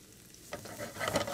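Shallots, celery and scallions go into a pan and cook, starting quiet and then breaking into a rising crackling sizzle with stirring scrapes, close and without voices.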